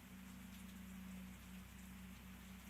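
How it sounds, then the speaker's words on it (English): Rain ambience in VRChat: a steady, soft patter of raindrops falling on a surface, with a low constant hum beneath it and nobody speaking. "I'm just going to leave you with the sounds of the rain."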